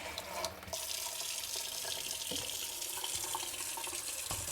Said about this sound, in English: And then I'll fill up this reservoir, mostly with regular water.